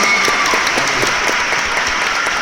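An audience applauds George R. R. Martin at a signing and chat event, a dense, continuous wash of clapping from a large crowd, steady and fairly loud.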